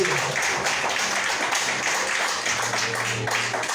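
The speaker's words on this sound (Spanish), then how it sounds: "dale un fuerte aplauso a Cristo Jesús" A church congregation at a night prayer vigil breaks into applause, a dense, continuous wash of clapping with a faint murmur of voices underneath throughout.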